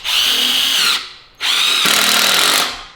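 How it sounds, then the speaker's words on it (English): A budget power drill whines at high speed in two sustained bursts with a short pause between, loud and close, boring holes. "that drill actually went through pretty good on speed 1"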